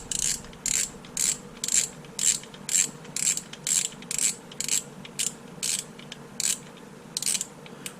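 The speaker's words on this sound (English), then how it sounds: "we're going to take the spool off of it" A spinning fishing reel's spool clicks through a steady run of about fifteen crisp ratcheting bursts, evenly spaced, close and alone with no voices.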